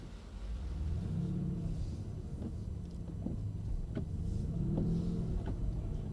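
A Mercedes-Benz CLS AMG builds speed on a driving-experience track, its engine a low, steady rumble heard from inside the cabin, with a few faint clicks and no talking.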